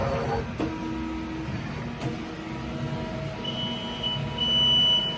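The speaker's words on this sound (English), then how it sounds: "we've got the buzzer" A Hyundai QT15N CNC lathe gives a mechanical background hum with a couple of sharp clicks, then its added alarm buzzer sounds a steady high-pitched tone twice near the end.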